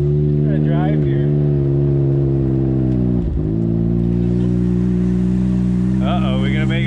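A Ski-Doo snowmobile engine drones steadily at close range, holding a loud, even tone with one brief dip partway through, while voices talk over it.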